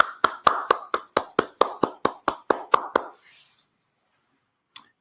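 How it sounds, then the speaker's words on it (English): Sparse, evenly spaced hand claps ring out about a dozen times at an RBS talk to honour consultancy and entrepreneurship students, then trail off into silence with one last faint clap. "let's give it a warm round of applause for them as well"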